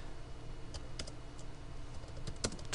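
Computer keyboard typing as a project name is entered, a quick run of light key clicks with a brief flurry near the end, close and fairly quiet over faint background noise.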